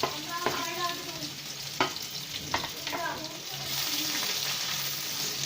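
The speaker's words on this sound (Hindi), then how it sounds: "ये प्याज को हम पहले थोड़ा सा सुरख कर लेंगे" Onions frying in oil in a karahi for aloo bhujia produce a soft, steady sizzle. Light clinks and scrapes from stirring sit on top, and faint bits of speech are heard.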